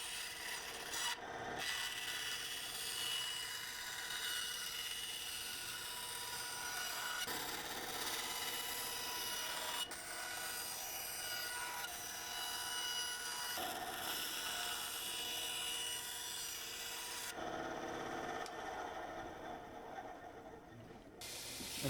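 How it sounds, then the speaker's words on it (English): A power sander grinds continuously against a plastic thermoform sheath, a steady abrasive whir with brief shifts in pitch as the pressure changes, no talking. "And now we're using this power sander here"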